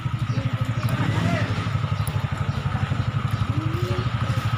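A motorcycle engine runs steadily nearby in an outdoor setting, a low rhythmic idle-like chug throughout with faint voices and background noise.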